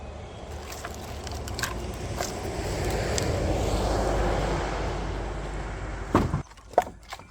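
A tractor engine drones steadily while the machine is repositioned, a low mechanical rumble swelling and easing over several seconds before a few sharp knocks near the end.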